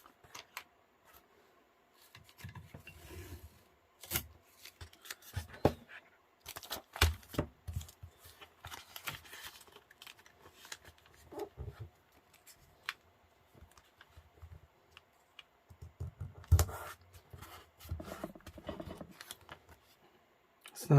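Tape being pulled, torn and pressed down while wrapping a comic book, coming as bursts of crackling rips and scrapes with quiet gaps between, close by and moderately loud.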